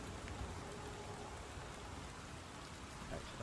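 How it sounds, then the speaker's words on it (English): Steady rain inside a game of The Elder Scrolls IV: Oblivion Remastered, a constant, even wash of drops on surfaces that continues without a break. "I am still hearing the rain"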